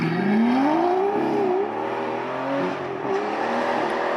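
Aston Martin V8 Vantage S, a roughly 15-year-old sports car, its V8 engine revving with a loud, rising growl that settles into a steady burbling drone, heard up close with no talking.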